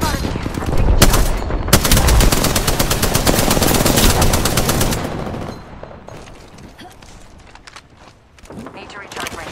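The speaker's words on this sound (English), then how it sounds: "They spotted me. I'm taking shots." A Spitfire light machine gun in Apex Legends fires a long, loud, rapid burst of sustained automatic fire lasting several seconds, followed by quieter scattered shots and game sounds, with a voice speaking.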